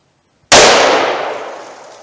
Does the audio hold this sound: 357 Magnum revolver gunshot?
yes